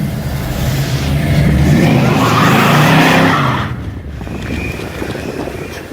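A Chevrolet Camaro V8 pulling away outdoors, a loud rising engine roar with tire noise that peaks and then falls off as the car moves away, leaving wind-like rumble behind.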